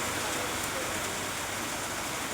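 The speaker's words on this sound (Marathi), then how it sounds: "नाशिकमध्ये देखील मुसळधार पाऊस पडतोय" Heavy monsoon rain pours over city streets in Nashik, a dense, steady, unbroken hiss that fills the whole stretch at moderate loudness with no voices.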